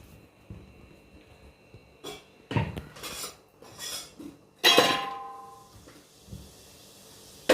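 A metal kadai is set down on a stove while rice-flour kozhukattai is prepared, giving a few scattered clanks and clinks and one louder metallic knock amid quiet kitchen handling. No one speaks.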